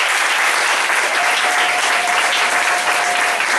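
A church congregation applauds the Lord together at a prophetic service, dense sustained clapping filling the room evenly and loudly for the full stretch with no pause, and no voices rising above it.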